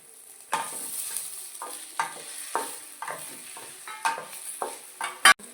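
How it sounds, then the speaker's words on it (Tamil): Tomatoes and boiled soya chunks (meal maker) frying in a pan for a meal maker fry, with a spatula scraping and stirring in a regular rhythm roughly twice a second over a faint sizzle, close by and without voices. "தக்காளி போட்டுக்கலாம் தக்காளி நல்லா வத வதக்கலாம் வேக வச்ச மேக்கரை போட்டுக்கலாம்"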